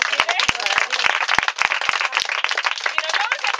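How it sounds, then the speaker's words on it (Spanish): A tour group bursts into applause at the end of a guided visit, sharp individual claps popping out near and irregular while people chatter over them. "Un aplauso para Manolo, no todo el mundo lo consigue"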